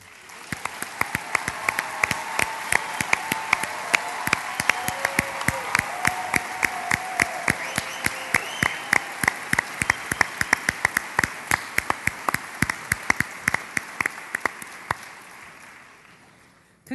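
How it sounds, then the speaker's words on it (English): Scattered audience clapping at an awards morning for honorees, thin and steady for the whole stretch, with individual sharp claps standing out and slowly fading at the end. "let's applaud these extraordinary individuals"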